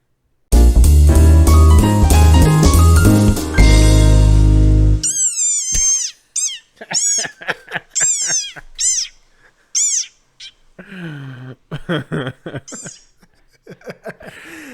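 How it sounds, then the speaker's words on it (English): An upset desert rain frog gives a loud, strained squeaking cry, then a series of short, choppy squeaks and chirps with pauses between them, close and shrill. "So here's the sound of a desert rain frog when it is upset."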